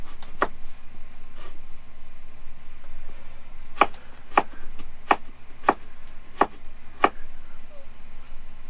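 Sharp knife strikes chop onions on a cutting board in a camper truck kitchen, a few scattered cuts at first and then a steady run of six close, crisp chops over low background hum.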